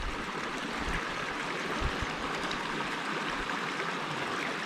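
A small creek running along a bush walking trail at Marrinup Falls, its water flowing in a steady, fairly loud rush with soft gurgles, continuous and close by, with no voices.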